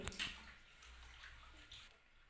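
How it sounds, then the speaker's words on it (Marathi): Water is poured over a Shiva lingam at a village temple during Monday worship, a soft splashing pour with a few drips, close but quiet. "दुधाचा अभिषेक झाल्यानंतर परत आपण पाण्याने पिंड धुवून घेतोय"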